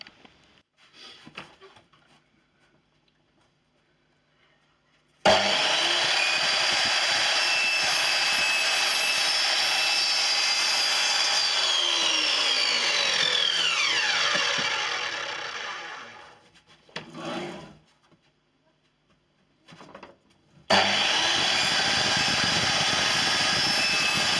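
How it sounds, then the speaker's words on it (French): A power saw whines loudly through a king-size bed's wooden base panel in a long continuous cut, pausing briefly, then starting another cut. "On va passer à la découpe du fond maintenant."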